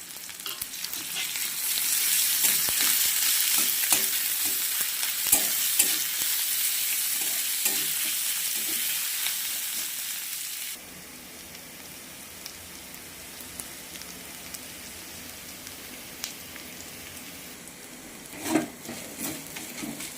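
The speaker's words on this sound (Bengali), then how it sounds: "পেঁয়াজ রসুন আর আদা ভাজা হয়ে গেছে" Onion, garlic and ginger paste fries in a pan, with a dense, hissing sizzle and repeated stirring scrapes that drop abruptly to a much quieter simmer halfway, then a sharp clack near the end.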